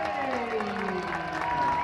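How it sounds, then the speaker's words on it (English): A stadium crowd applauds during a Charleston Battery vs Harrisburg City Islanders soccer match as Dane Kelly is substituted off for Aviel Cordovez; the steady, moderate applause runs under continuous commentator talk. "He'll get a round of applause."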